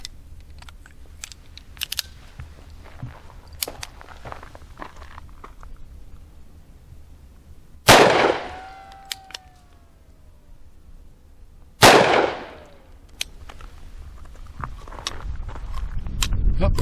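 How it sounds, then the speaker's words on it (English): A Bond Arms Texas Defender derringer in .410 firing buckshot: two loud, sharp blasts about four seconds apart, each ringing out briefly, between quiet handling noises and no talk. "I'm gonna try this again, this time with 2 rounds of buckshot."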